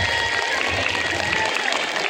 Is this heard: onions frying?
no